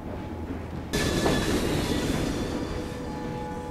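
A train in Assassin's Creed Chronicles starts rolling in a 19th-century setting, bursting into a loud, steady rumble of wheels and rail noise after a brief quiet lead-in, with no voices.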